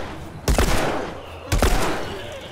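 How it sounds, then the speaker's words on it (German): Gunfire in the game The Last of Us Remastered, two loud, close shots spaced about a second apart, each cracking sharply and then echoing briefly over a low background rumble. "Kopfschuss."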